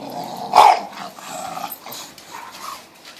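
A dog growls close up, a low rumbling snarl with a sharp bark-like burst near the start, followed by softer grumbles.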